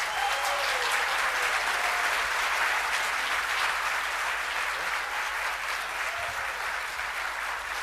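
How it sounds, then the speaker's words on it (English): Sustained applause from an audience of attendees at a Korean/Cold War annual government briefing, steady dense clapping filling the room for the full stretch with no one speaking over it. "let's go ahead and give a round of applause for all our speakers"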